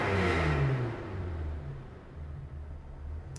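An engine on a dyno, controlled by RusEFI engine management, revs up close by. A deep rumbling roar holds steady as the revs rise, with no talking.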